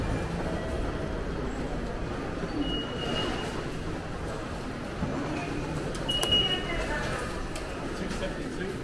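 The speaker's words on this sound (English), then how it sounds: "We are here in Yokohama Station subway." A subway train rumbles at Yokohama Station, Japan, a continuous low rolling roar with faint metallic squeals, heard close and loud under people talking.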